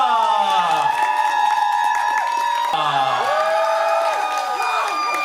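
Fans at a fan signing event applaud and cheer in a loud, sustained crowd roar while music plays and a voice briefly calls out.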